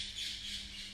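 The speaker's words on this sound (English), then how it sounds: "chase those stupid birds out of the porch" Birds on a porch squawk in a harsh, continuous chorus at close range, with a steady low hum running underneath and no voices.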